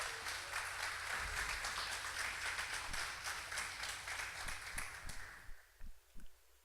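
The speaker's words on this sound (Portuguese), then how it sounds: "aplauda o Senhor em nome de Jesus" A church congregation breaks into dense applause during a Portuguese-language sermon, many hands clapping steadily before the sound thins out near the end into a few last scattered claps and quiet.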